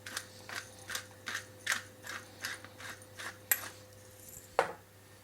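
A pepper mill is cranked over a crow pie filling, fresh pepper ground in a steady run of about a dozen short, dry, gritty crunches, fairly quiet and close, with a faint steady hum behind and no talking.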